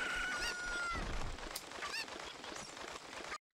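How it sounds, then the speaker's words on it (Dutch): Several honking, clucking poultry calls from the Zelda Ocarina of Time video game sound over a busy game background, repeating irregularly before stopping abruptly. "Klik, we hebben een kuiken."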